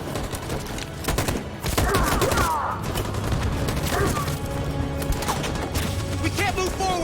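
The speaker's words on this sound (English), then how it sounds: "That machine gun is taking down everything that moves!" Machine gun fire in Detroit: Become Human, rapid bursts of automatic shots mixed with impacts and booms, loud and continuous, with shouted voices heard over the fighting.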